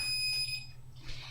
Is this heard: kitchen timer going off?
yes